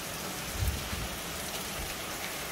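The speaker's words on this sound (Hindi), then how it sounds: "ठा ठा ठा बारिश आई है, पूरी गज वज के बरात आई है पानी दी है।" Heavy rain pours down in a dense, steady hiss, drumming on surfaces close by, with a low thump early on and no voices.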